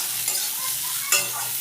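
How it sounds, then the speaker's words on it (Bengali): Lightly salted ridge gourd peels are stirred in a hot pan with a steady, close sizzle and one sharper spatula scrape near the end, and no one speaks. "2-3 মিনিট নাড়বো।"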